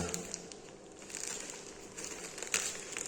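Thick plastic packaging on a 3D diamond wallpaper delivery is torn and crumpled open by hand, giving close, irregular crinkling and ripping with a sharper tear burst near the end.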